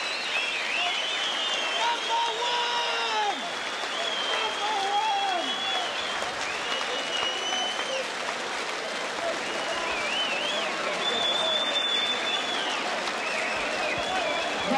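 Crowd applause and cheering fill Festival Hall in Melbourne after a 1985 boxing match, steady and broad throughout, with whistles rising above it and no clear talk.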